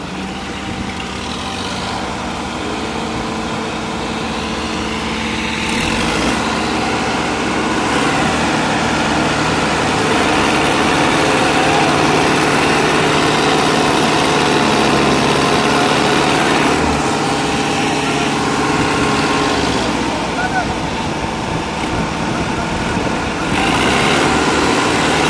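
A Sonalika 750 tractor engine runs steadily and loudly nearby for the whole stretch, a continuous droning rumble with a brief dip in level around a few points and no talk.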